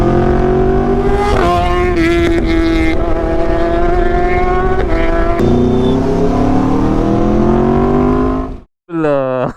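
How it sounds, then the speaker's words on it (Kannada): A motorcycle engine revs loudly up close, its pitch climbing as it accelerates. It then cuts out briefly before another short burst of revving. "ಆಕ್ಸಿಲರೇಟರ್ ಕೊಟ್ಟಾಗೆ ಗಾಡಿ ಸೂಪರ್."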